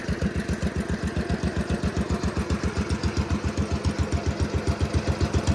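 Rebuilt 1965 Simplicity Landlord 101 garden tractor engine idles with a rapid, even chugging pulse, close and steady, still needing carburetor adjustment.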